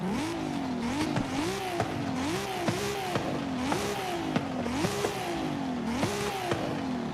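A car engine revs hard and repeatedly in Forza Horizon 5, the pitch climbing and dropping in steady cycles with gear shifts, loud and continuous like a racing game.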